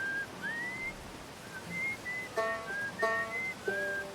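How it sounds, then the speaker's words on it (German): Someone whistles a short wandering tune in the space exploration game Outer Wilds, thin clear notes with pauses between phrases over a faint ambient background. "Der pfeift einer."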